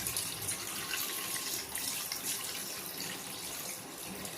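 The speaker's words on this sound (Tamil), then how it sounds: "இதை அப்படியே வந்து வடிகட்டுவோம்." Soaked pearl millet is strained through a sieve, a steady close-up rush of pouring and splashing water running continuously without talk.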